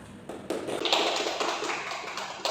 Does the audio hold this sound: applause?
yes